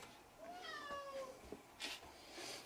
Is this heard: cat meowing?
yes